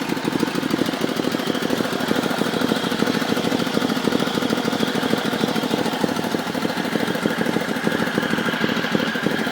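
A 1974 Sears Suburban SS16 garden tractor engine idles steadily, a close, rough, rapid chugging that runs unbroken and alone throughout.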